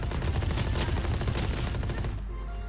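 Rapid automatic gunfire from the video game Valorant rattles continuously for about two seconds, dense and loud, then cuts off into a faint electronic hum.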